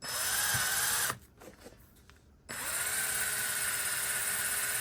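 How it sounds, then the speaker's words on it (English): A power drill whines loudly, stops briefly for about a second, then resumes with a steady high-pitched drone. "Just let the drill bit do the work."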